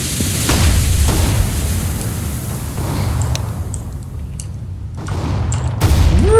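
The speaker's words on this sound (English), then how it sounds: "Throwing flashbang." A flashbang grenade goes off in a CS:GO match: a loud, sharp bang cracks out over constant gunfire and rumbling, followed by further pops and bursts late in the round.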